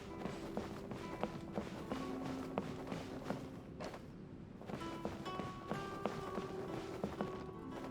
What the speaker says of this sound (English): Here you don't hear any squeaking, just your footstep.